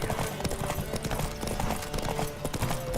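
Horse hooves galloping in The Witcher 3 video game, a fast, steady clip-clop rhythm, continuous and fairly loud, with a busy background.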